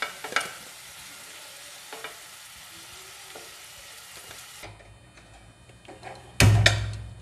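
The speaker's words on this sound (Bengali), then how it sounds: "আমার আলুগুলো ভাজা হয়ে গেছে দেখুন এবার আমি গ্যাসটা অফ করে দিচ্ছি আরও আলুগুলো তুলে নিচ্ছি" Fried potatoes are scooped from a pan as the frying dies down, with a soft continuous sizzle, occasional utensil scrapes, then a loud clatter near the end.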